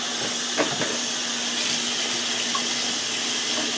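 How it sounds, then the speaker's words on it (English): Water running from a kitchen tap in a steady hissing stream, fairly close, continuing throughout with a couple of soft clunks near the start. "Let me get the water."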